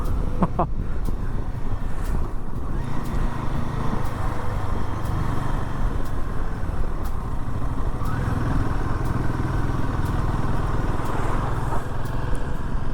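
A Royal Enfield Himalayan 450 motorcycle ridden through rainy hill roads on the way to Almora, its engine humming steadily near and loud beneath heavy wind rush, with a few sharp clicks scattered over the drone.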